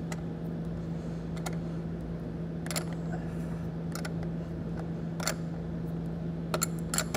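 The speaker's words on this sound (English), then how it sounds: "go ahead and tighten the nut here to secure it" A wrench tightens the nut on a battery terminal clamp of a 2020 Lincoln, making a few sharp ratcheting clicks spaced out over a low steady hum, close and fairly quiet.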